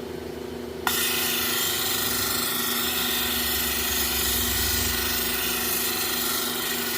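Felt polishing wheel spinning against a hard stone with tin oxide, starting abruptly after a second of quiet and then holding a loud, steady motor whine with a constant grinding hum throughout.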